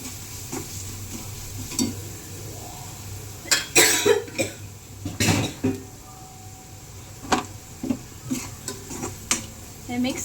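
Spoon scraping and clinking as a vegetable mixture with turmeric, salt and onion-garlic masala is stirred in a pan, irregular knocks and scrapes over a steady low background hum.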